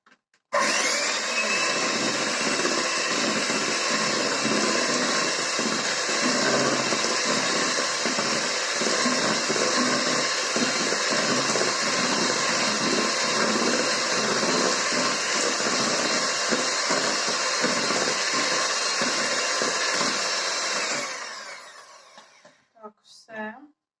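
An electric hand mixer at its lowest speed drones steadily and loudly for about twenty seconds while beating a strawberry pie batter with oil, then winds down and stops.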